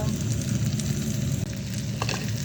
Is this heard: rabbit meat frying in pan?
yes